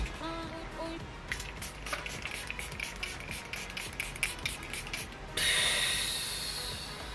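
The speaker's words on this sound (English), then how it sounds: "I'm going to be using the Benefit setting spray." Benefit setting spray misted onto a face: after some soft rustling and handling clicks, one long hissing spray burst starts abruptly and slowly fades, close and fairly quiet.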